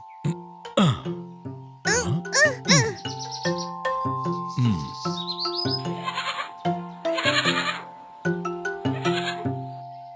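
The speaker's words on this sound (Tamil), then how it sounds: "அட அட, இது ஆட்டுக்குட்டி." A cartoon lamb found on a train track bleats repeatedly in short wavering cries, mixed with chirpy, jingly cartoon sound effects and a steady background tone, loud and close throughout.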